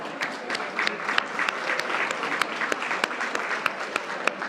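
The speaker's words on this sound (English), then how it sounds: "let's have another round of applause for that outstanding panel." Steady applause from a crowd at an urban forum after a panel, a continuous wash of clapping with sharp individual claps popping out at irregular moments throughout.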